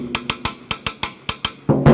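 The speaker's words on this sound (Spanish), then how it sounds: "En la música de gaita, la tambora sería así." A tambora drum plays a gaita rhythm in a brief run of about ten crisp, evenly spaced strikes. The hits are close and loud, and a heavier, fuller stroke closes the phrase.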